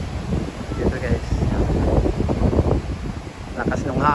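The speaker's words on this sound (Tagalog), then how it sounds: "Lakas ng hangin." Gusty wind roars and buffets the microphone at a beach resort, with a voice speaking in Filipino over it and rustling in the background.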